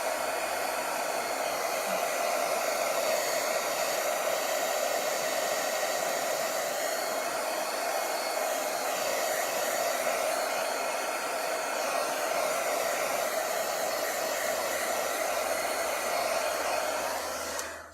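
A hair dryer blows steadily for the whole stretch, drying distress oxide ink papers, a loud continuous whooshing hum that only cuts off at the very end.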